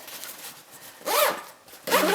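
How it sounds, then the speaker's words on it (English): A zipper being pulled shut on a Moog Infinity pump backpack, two short close zipping strokes separated by a brief pause, heard alone and clear. "so once that's all done, you just zip it shut"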